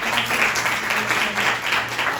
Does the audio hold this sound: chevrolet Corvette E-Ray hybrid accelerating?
no